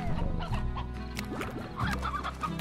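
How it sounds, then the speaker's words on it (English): Chickens clucking in the video game Slime Rancher, several birds with overlapping busy clucks and short rising calls, close and fairly loud throughout with no talking. "Hey look, you grew more chickens."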